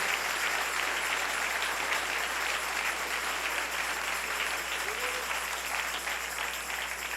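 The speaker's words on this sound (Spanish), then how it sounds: "Dale un aplauso al Rey si lo sientes en tu corazón." A church congregation applauds during a Spanish-language sermon, with dense, continuous clapping from many hands filling the room at an even level for several seconds.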